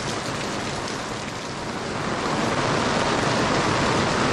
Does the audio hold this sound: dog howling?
no